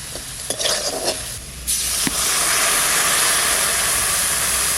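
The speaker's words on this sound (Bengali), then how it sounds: "আলুগুলো কি সুন্দর করে ভেজে নিচ্ছি একদম কড়া করে এবার জল দিয়ে দেবো" Water poured over crisply fried potatoes seasoned with turmeric and salt in a hot pan: scattered light crackles first, then a sudden loud, sustained hissing sizzle of steam that fills the rest.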